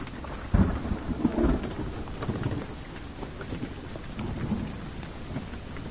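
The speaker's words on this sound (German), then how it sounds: "ich könnte jetzt hier nicht unterscheiden, ob dieses Gewitter im Spiel stattfindet oder in echt" A thunderstorm in the horror video game Blair Witch: steady heavy rain patters on surfaces, with a rumbling thunder crack near the start and low rolling rumbles after it.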